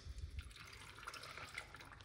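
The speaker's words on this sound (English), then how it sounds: "So let's put some water inside of it." Water being poured into a blender for carrot and beetroot juice, a quiet steady trickling splash with a few low thumps at the start.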